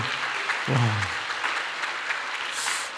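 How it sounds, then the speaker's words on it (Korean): A congregation at a Friday night revival service gives a round of blessing applause, steady dense clapping with a brief voice rising over it partway through. "우리 자녀들 박수 한 번만 축복의 박수."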